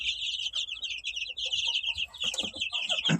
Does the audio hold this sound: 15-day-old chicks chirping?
yes